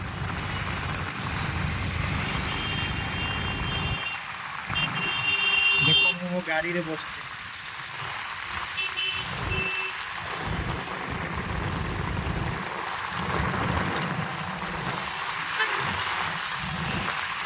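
Heavy rain pours in a steady, dense hiss throughout, with someone talking over it for much of the time.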